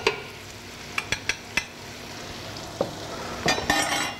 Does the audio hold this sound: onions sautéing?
yes